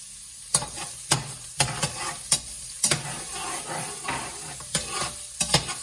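Sliced onions sizzle in hot oil in a pot while being stirred, giving a steady broadband fry with a dozen sharp utensil scrapes and knocks spaced irregularly throughout.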